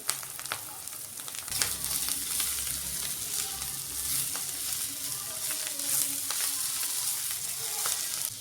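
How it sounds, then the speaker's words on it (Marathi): Coriander chatka sautéing in a hot pan sizzles loudly and continuously, with a spatula stirring and scraping at intervals and a few sharp ticks, close by and with no voice. "आपल्याला अर्धा मिनिट फक्त हे परतायचं आहे आणि टाकून घ्यायची आहे कोथिंबीर।"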